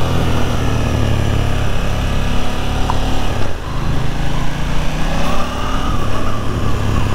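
A 2022 KTM 890 Duke GP with tech package runs its parallel-twin engine up close, a steady loud drone with slight swells in pitch, as if idling and lightly revved, without any talk over it.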